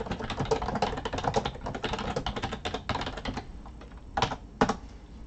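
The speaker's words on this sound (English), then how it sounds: "I'll just type real quick." Quick typing on a computer keyboard, a dense run of close clicking keystrokes that thins out toward the end with a few final isolated key presses.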